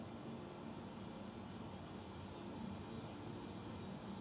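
The engine of an H145 helicopter in a flight simulator runs at idle, a faint, steady whine and rumble that holds even and unbroken throughout.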